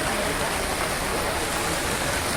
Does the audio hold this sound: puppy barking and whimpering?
no